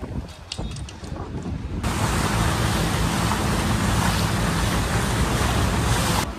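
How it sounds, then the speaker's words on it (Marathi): A speed boat races over the sea near Alibaug, a loud, steady roar of engine, rushing water and wind buffeting close to the microphone, starting softer and swelling after the first couple of seconds. "स्पीड बोट बोटीने जाऊया"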